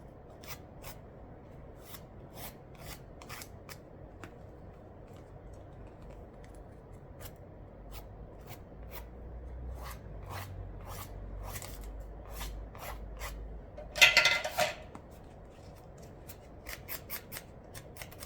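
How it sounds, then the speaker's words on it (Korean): A nail sanding buffer works over a fingernail surface during a nail certification practical, making quiet, short scratchy strokes in quick rhythmic bursts with brief pauses between them. "샌딩 블러 전체 거스러미 제거해 주시면서 전체 표면까지도 꼼꼼하게 해 주실게요."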